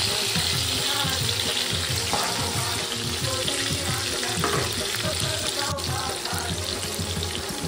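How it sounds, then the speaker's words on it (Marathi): Prawns fry in a spice paste in a hot pan, giving a steady, loud, close sizzle that runs throughout with faint clinks, and no one talks. "त्याच्यात मी आपण पेस्ट बनवलेली टाकते आणि थोडीच फक्त कोलंबीला फ्राय करायला."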